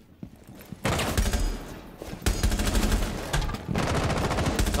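Rapid automatic gunfire from a weapon in the video game Rainbow Six Siege comes in three loud bursts separated by short pauses, each a fast, sharp rattle of shots.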